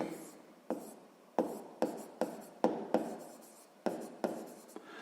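Pencil or pen writing out a sixth-grade math exercise solution on paper: repeated scratchy strokes, each starting with a sharp tap and trailing off, close and fairly quiet, with no voice.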